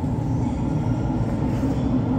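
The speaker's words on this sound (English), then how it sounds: "here we are, another train coming" Montreal metro subway train pulling into a station, a loud steady low rumble of wheels and motors filling the whole stretch without any voices.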